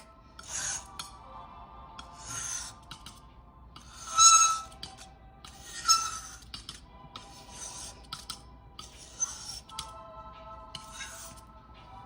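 A glass muller grinds pearlescent watercolor paint on a smooth slab, making close, gritty rasping strokes in separate bursts with short pauses between them.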